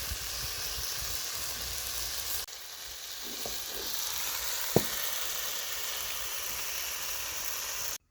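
Tomato and onion sauté in a pan over a village-style cooking fire, giving a steady, close, broadband sizzle that drops slightly partway through, with a couple of faint stirring clicks and one sharp knock near the end.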